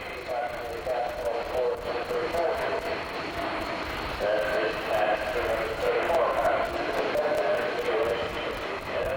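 An Airbus A330 jet with Rolls-Royce Trent 700 engines roars at an air show, a sustained loud engine rumble and whine that swells and holds steady throughout, with a voice talking over it.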